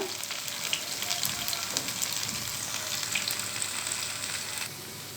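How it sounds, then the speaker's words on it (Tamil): Mushrooms fry in a pan for mushroom mandi rice, giving a steady, close crackling sizzle with small pops throughout and no talking. "காளான் பாருங்கள் முக்கால் பதத்துக்கு வெந்து வந்துட்டுருக்குது இன்னும் கொஞ்சம் நேரம் வேகட்டும்"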